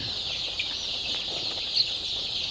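Black karunkozhi chickens on a country-chicken farm in Tamil Nadu, clucking softly with a few sharper calls over a steady background hiss, fairly close and moderately loud.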